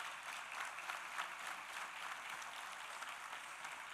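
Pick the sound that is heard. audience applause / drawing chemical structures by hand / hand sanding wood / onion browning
audience applause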